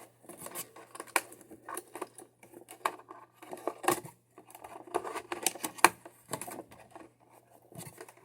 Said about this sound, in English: I have to cut the dang thing open.